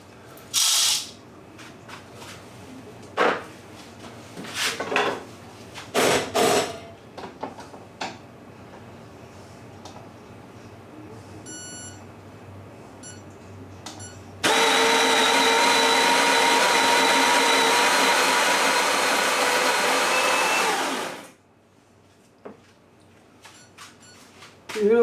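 A coffee grinder runs on 16 grams of espresso beans in one steady, loud burst of about seven seconds, coming after a stretch of quiet handling clicks and taps and followed by softer clatter.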